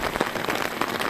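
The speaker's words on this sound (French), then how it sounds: "je suis sous la pluie" Rain patters steadily on an umbrella at the beach in Veules-les-Roses, a dense, even hiss of drops close overhead.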